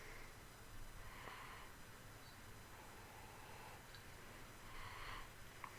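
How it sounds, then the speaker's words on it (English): A few soft sniffs of an amber lager close up, short breaths drawn in through the nose at intervals, quiet against faint background hiss. "Let's give it a sniff."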